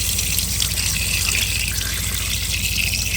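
Water gushes steadily out of the engine of a 1974 Pontiac Ventura that was left for dead and filled with water, a loud continuous splashing rush running unbroken throughout, close by.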